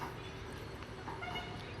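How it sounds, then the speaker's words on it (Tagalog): Low, steady rumble of an LRT light rail train rolling past at a distance in Baclaran, Manila, faint and continuous. "Ayun ang LRT"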